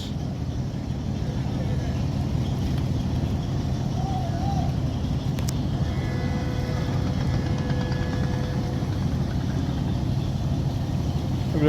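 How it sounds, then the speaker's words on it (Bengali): A steady low engine rumble from the passenger launch Karnafuli 10 from Bhola as it docks at a river ghat in Bangladesh, droning continuously and fairly loud throughout. "এখনই একটি লঞ্চ ঘাট করছে ভোলার কর্ণফুলি দশ"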